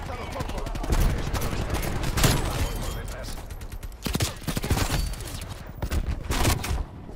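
Gunfire and explosions from the video game Call of Duty Cold War, a dense continuous barrage of rapid shots and booming blasts at moderate loudness, with a voice talking faintly over it.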